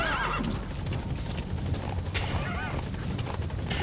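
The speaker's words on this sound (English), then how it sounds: "No, that was a horse. That was just a horse." A horse in a video game whinnies and clip-clops over steady game noise and a helicopter-like rumble, the neigh rising briefly near the middle and the hoofbeats continuing throughout.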